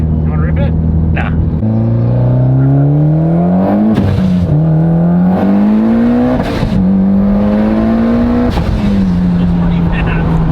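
A tuned 550 wheel-horsepower Mitsubishi Evo X engine revs hard on a dynamometer: loud, close, rising pitch sweeps through repeated pulls with brief breaks between gears or runs, droning continuously throughout.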